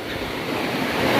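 A shallow river stream on a forest trail to a waterfall near Bogor rushes steadily, making a loud, even wash of flowing water with no pauses.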